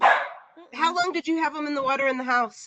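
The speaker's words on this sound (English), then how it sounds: "oh, that's my dog." A dog barks once, loudly and close, in a flower farmer's house in winter, then people talk to each other over the following seconds.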